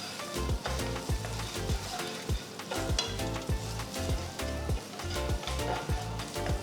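Chopped garlic, ginger and green chilies fry in hot oil with a bright, crackling sizzle, while rhythmic spatula taps and stirs land about twice a second throughout.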